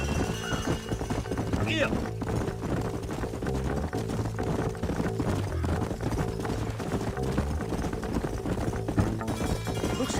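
Horses' hooves clip-clop steadily in the Red Dead Redemption video game, running under continuous music and ambience, with a brief spoken word near the start.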